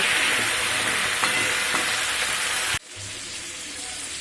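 Winter vegetables and spinach sizzle in a pan for khichuri, a loud steady frying hiss with faint stirring knocks that cuts off abruptly, leaving a quieter softer sizzle afterward.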